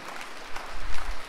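Brief applause from a concert audience at a tribute concert for a songwriter, a short burst of moderately loud, diffuse clapping with low rumble.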